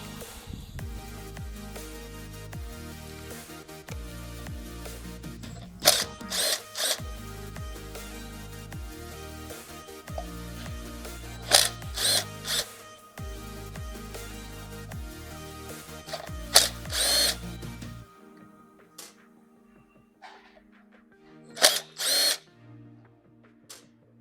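Impact gun fitted with a Torx T25 bit backs screws out of an electric scooter wheel disc, several loud rattling bursts separated by short pauses, the last few bursts coming after a quieter stretch.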